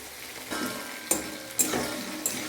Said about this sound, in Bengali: এই দিয়ে এখন ভালো করে কষিয়ে নেব, যতক্ষণ না আদা কাঁচা গন্ধ চলে যায়।